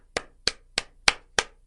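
Hands clap six times in a steady, evenly spaced rhythm, each clap sharp, close and dry, with silence between them.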